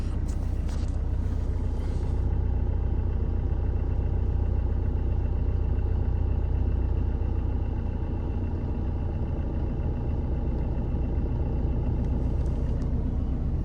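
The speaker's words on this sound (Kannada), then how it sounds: "ಕ್ಲಚ್ ಬಿಡೋವಾಗ ನಿಮಗೆ ಸೌಂಡ್ ಗೊತ್ತಾಗುತ್ತೆ, ಕಾರ್ ಮೂವ್ ಆಗೋಕ್ಕೆ ಯಾವಾಗ ರೆಡಿ ಐತಿ ಅಂತ ನಿಮಗೆ ಸೌಂಡ್ ಗೊತ್ತಾಗುತ್ತೆ" A car engine runs inside the cabin during a beginner driving lesson as the clutch is released, giving a steady, continuous low rumble with no talking.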